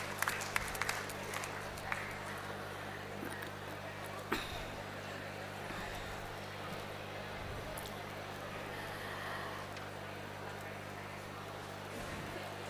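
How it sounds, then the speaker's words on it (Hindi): An audience at a book-fair award ceremony in New Delhi claps in a soft, spread-out patter that is faint and distant, with a few sharper claps early on and murmuring in the hall. "जब इतनी जनता बैठी है तो तालियां तो सुनाई देनी चाहिए ना।"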